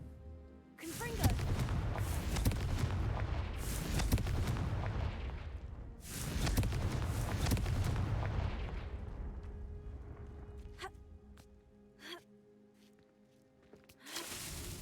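Explosive spell blasts from the Confringo charm in Hogwarts Legacy, a loud booming burst at the start and another midway, each rolling into a long rumbling decay, with fainter crackling impacts and thuds near the end.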